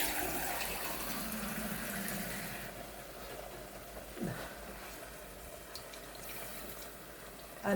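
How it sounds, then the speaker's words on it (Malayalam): Water is poured into a pan of curry with Malabar tamarind pieces, a soft, fairly faint trickling rush that tapers off, with a small clunk near the end. "നമുക്ക് വെള്ളം ചേർക്കാം."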